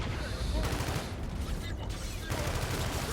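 Steady gunfire from computer-controlled soldiers in a military shooter game, dense rattling bursts sustained throughout at fairly close range with a brief lull midway, a voice partly audible underneath.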